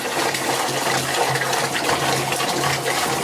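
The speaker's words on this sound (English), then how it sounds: "Now we're going to empty the water out of the tank into a bucket." Water being emptied from a tank into a bucket, a steady close rushing and splashing pour with a faint low hum underneath, no talk.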